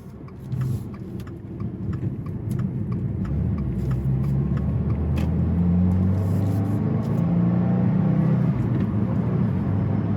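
A 2024 Subaru WRX four-cylinder engine with manual transmission droning steadily from inside the car, a low rumbling hum that swells slightly as it accelerates, with light rattles and clicks.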